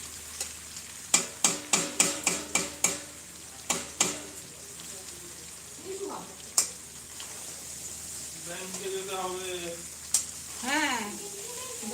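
Duck meat sautéed with onion and garlic in a village kitchen gives a run of sharp, rhythmic stirring scrapes and sizzling bursts, then quieter frying as voices talk nearby.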